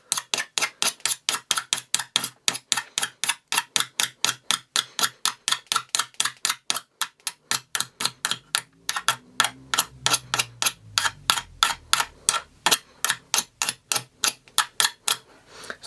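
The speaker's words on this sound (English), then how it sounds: "see if it can fare the coin scratching the sides of it" A coin is scraped along the sides of a gold champagne iPhone 5S in quick, evenly spaced strokes, a sharp close scratching repeated about three times per second for the whole stretch, with a faint low hum partway through.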